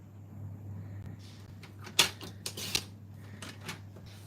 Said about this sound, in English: trimmer and we're going to do a little bit of cutting